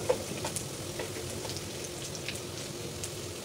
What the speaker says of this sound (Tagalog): igisa yung bawang